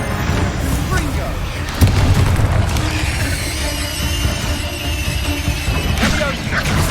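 Confringo fire-blast spell exploding in the Hogwarts Legacy video game, a loud sharp blast near the two-second mark over a dense, continuous rumble of combat effects.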